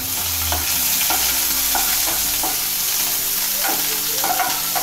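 Chopped garlic and a little onion fry as a tempering in a pan over low gas for Malvani-style Bangda (mackerel) fish curry, giving a steady sizzle with stirring scrapes and soft clinks throughout.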